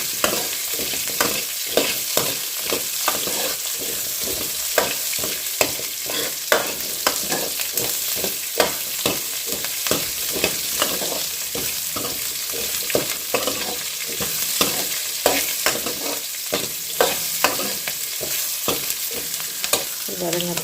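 Onions and tomatoes sizzle steadily in a pan while sautéing for a Tamil fish curry, with repeated scraping stirs of a spoon cutting through the constant frying hiss.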